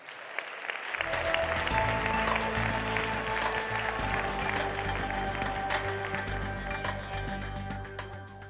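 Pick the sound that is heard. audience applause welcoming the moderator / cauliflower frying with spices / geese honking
audience applause welcoming the moderator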